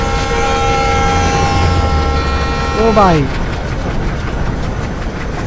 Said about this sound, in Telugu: చూడండి ఎదురుగా ట్రైన్ వస్తుంది